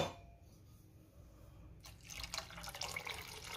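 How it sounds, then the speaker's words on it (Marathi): Water is poured into a pot of cooking mung dal varan made with whole split green gram and skins, a splashing pour that starts partway through after a quiet, low-hum stretch and continues steadily to the end. "आता पाणी घालायचंय"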